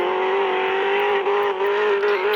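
Steady engine drone of a white car in the Tofaş video game, a continuous loud hum held at an even pitch with slight wavering, alone with no talk.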